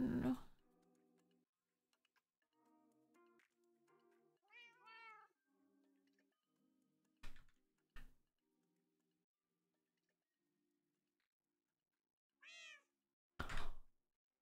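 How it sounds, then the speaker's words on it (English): Cats meow together indoors, two or three short, clear meows rising and falling in pitch, separated by near silence, with faint quiet knocks and a few brief loud thumps. "They just meowed in sync."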